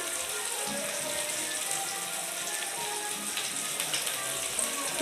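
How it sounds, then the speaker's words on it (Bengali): Vegetables frying in hot oil and being stirred, part of a vegetarian Bengali dish, give a steady close sizzle and crackle throughout with no talk. "তেলে দেওয়ার পর কিছুক্ষণ তেলে নেড়ে চেড়ে নিয়ে"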